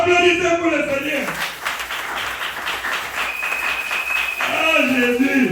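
A church congregation at a Tuesday service claps for the Lord, a dense burst of applause from many hands, framed by a preacher's voice at the start and end.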